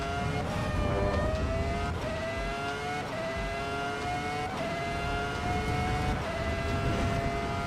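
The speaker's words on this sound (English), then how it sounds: "we are in the Ferrari F1 2004 right now from Michael Schumacher" Ferrari F1 2004 engine in Assetto Corsa Evo, a high-pitched V10 scream rising through the gears in repeated upshifts, loud and steady close to the car with no talking.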